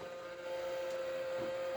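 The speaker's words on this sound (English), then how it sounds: "So there you can hear the motor" A steady electric motor whine from a Beyblade battle setup hums evenly at a single pitch, close by and constant, with no talking over it.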